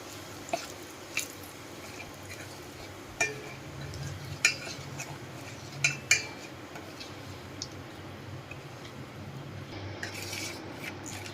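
Fenugreek seed mixture stirred in a pan with a spoon after asafoetida is added, soft gritty stirring under a quiet background with a handful of sharp metallic clinks spread through.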